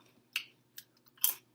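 Crunchy multigrain nacho chips are chewed in a few sharp, separate crunches, close to the mouth and fairly quiet, with near silence between bites.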